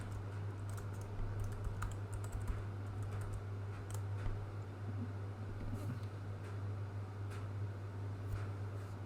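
A password is typed on a computer keyboard during network appliance setup. Quiet, irregular key clicks sit over a steady low electrical hum.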